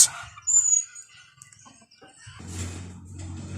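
Chickens give a few soft clucks and a short high call, then a low rumbling background swells toward the end; sparse and fairly quiet overall.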